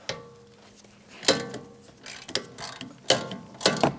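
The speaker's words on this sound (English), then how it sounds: "17mm socket or wrench, bracket to knuckle off with the two mounting bolts" A 17mm socket wrench ratchets off the brake bracket mounting bolts on a 2015-2024 Jeep Renegade rear brake. Several close, sharp clicking strokes at uneven intervals, with some metallic clatter between them.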